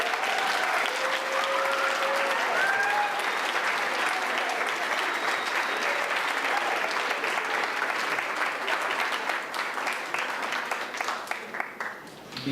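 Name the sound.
audience applause for 8th grade graduates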